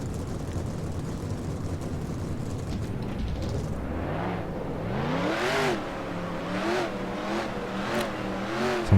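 Race car engines revving in the NR2003 racing game during a recreation of the 2002 Aaron's 312 race, a swelling roar with repeated rising and falling pitch sweeps as cars accelerate past.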